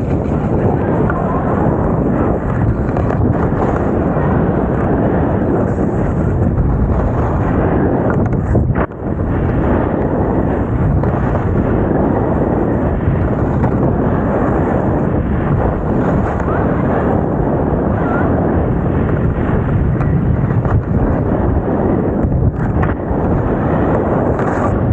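Skis from the brand 1000 Skis run fast down a slope, with strong, steady wind roar and rushing snow noise that lasts the whole time and stays loud and unbroken.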